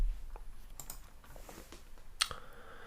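Fingers type a short title on a computer keyboard, a quick run of soft, close key clicks in an otherwise quiet room, ending in one sharper tap.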